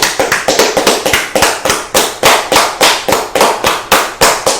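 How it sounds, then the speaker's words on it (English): Several people clap their hands in a quick, steady rhythm, loud and close, with sharp regular slaps and no talk. "let's clap"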